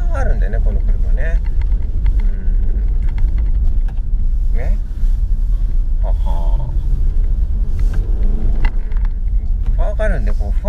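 Nissan Juke 16GT FOUR driving on deep snow, its engine giving a constant loud rumbling drone from inside the cabin while someone talks and laughs over it.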